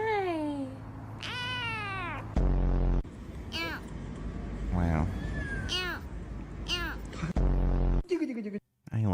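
A cat meows repeatedly in drawn-out, rising and falling calls, close and clear, while a person talks softly between the cries.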